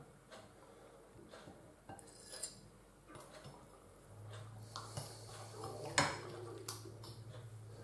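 A small plate being taken out in a home kitchen during pork chop cooking, with soft clinks and knocks of crockery and cutlery, a brief louder clatter near the end, and a low steady hum underneath.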